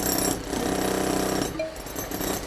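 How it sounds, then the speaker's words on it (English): A power drill boring into a ceiling while installing HR and OH 2100 boxes, a loud, continuous whining grind that briefly changes pitch before cutting off at the end. "When you're ready, press and hold the trigger button to start drilling."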